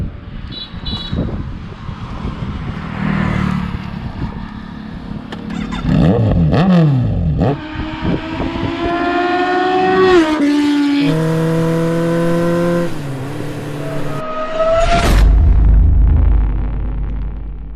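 A Kawasaki Z900 inline-four fitted with a Racefit exhaust revs up close and loud, its pitch climbing and falling through several throttle blips before one final sharp rise and a deep rumble at the end.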